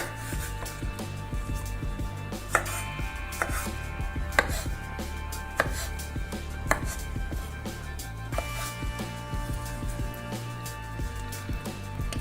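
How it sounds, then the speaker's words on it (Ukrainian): A knife chops washed strawberries finely on a board, a brisk series of close, crisp taps with occasional harder knocks, continuing steadily without any talking. "Для начинки беремо помиту полуницю та дрібно нарізаємо"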